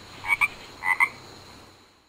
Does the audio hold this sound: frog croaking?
yes